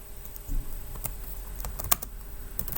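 Clattering keystrokes on a computer keyboard, an irregular, fairly quiet burst of taps over a steady low background hum.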